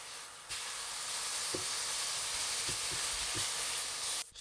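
Chicken pieces sizzle in a hot oiled pan for a curry spaghetti dish, a broad steady hiss that starts abruptly and cuts off near the end, with a few faint soft taps underneath.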